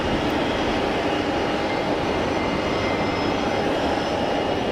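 An easyJet airliner landing at Geneva Airport roars close and loud, a dense, unbroken jet-engine wash holding steady throughout.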